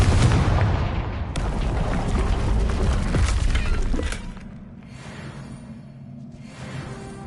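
Fiery Confringo blasting spell from Hogwarts Legacy detonates in a run of loud, close, crackling bursts with shattering debris, then fades to a quieter rumble with a couple of softer whooshing swells.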